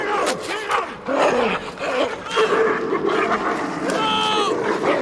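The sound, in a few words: dogs set on a man, barking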